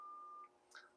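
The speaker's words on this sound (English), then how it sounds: "And I apologize for that beeping in the background." Electronic beeping from a nearby warehouse, a steady high tone held for about half a second followed by a brighter chirping burst, faint and distant under a quiet room.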